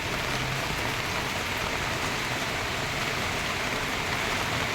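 Heavy rain pours steadily in the mountains at Mt. Province, a dense, loud hiss of water with no break, and no voices are heard.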